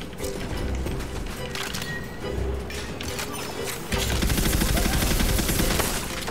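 Rapid gunfire from a rifle or pistol during a boss fight in Tiny Tina's Wonderlands, a dense, continuous stream of shots mixed with mechanical clatter and game effects, getting louder and busier about midway.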